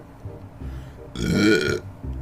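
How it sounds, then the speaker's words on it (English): A single loud, drawn-out human burp rises in the middle and lasts about half a second. Quieter talk comes before and after it. "Excuse me, the first burp of the video."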